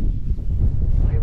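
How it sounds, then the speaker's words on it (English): Wind buffeting a microphone outdoors while wild camping in the Cheviot crags, a loud low rumbling roar that fills the whole moment. "It's not helping that it's windy"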